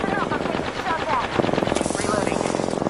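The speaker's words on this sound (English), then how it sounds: "Getting shot at." Rapid automatic gunfire rattles in dense bursts in an Apex Legends firefight, the player under fire, with sharp cracks and a rhythmic stutter of shots running steadily through nearly three seconds, loud and close.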